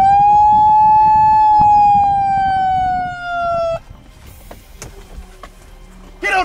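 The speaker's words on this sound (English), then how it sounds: "let me pop the siren" A police car siren on a patrol vehicle wails loudly and close for a few seconds in a single long, slowly falling tone, then cuts off abruptly, leaving scattered knocks and background noise.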